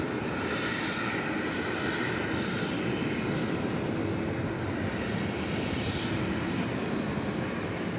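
An airliner passes at DFW Airport with a steady, broad roar of engines and wind-like rush that stays loud and even throughout, heard without any voices.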